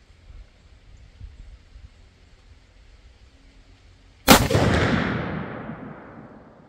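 A single loud, sharp shot from a .50 caliber muzzleloader rifle at the range breaks the quiet, with a long rumbling decay afterward.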